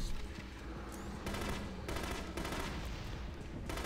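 Sustained automatic gunfire in the shooter video game The Conduit, rapid bursts firing continuously at an enemy, dense and loud throughout with brief pauses between volleys, no speech.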